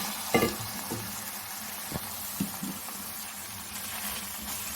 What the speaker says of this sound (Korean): 이제 물을 좀 붓겠습니다.